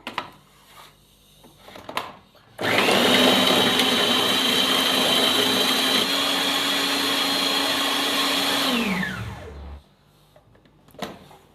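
An electric food chopper running on ginger and other ingredients for kofta curry, starting abruptly into a loud steady whirring drone that holds for about six seconds before winding down, with faint background noise around it.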